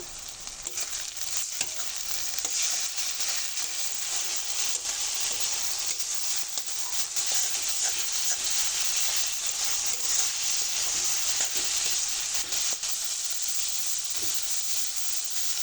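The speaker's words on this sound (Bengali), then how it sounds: "খুব ভালো করে আমার মাছ মশলা একসঙ্গে ভাজা হয়ে গেছে" Fish and spices fry in a pan with a steady, close sizzle and hiss, broken by occasional stirring scrapes.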